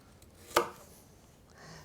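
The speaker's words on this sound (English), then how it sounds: "Cut the carrot into sections" A single sharp knife chop through a carrot on a cutting board, one crisp close thunk followed by quiet.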